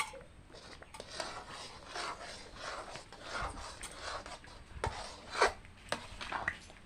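Raw papaya halwa being stirred after about 100 grams of ghee goes in, a steady scraping rub of spoon against pan with soft irregular rasps, close and moderately quiet, no talking.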